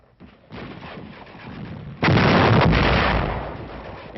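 A fixed demolition charge detonates against a stubborn Japanese defensive position during World War II combat, a muffled rumbling background giving way to a sudden loud, close blast whose heavy roar holds for over a second before slowly tailing off.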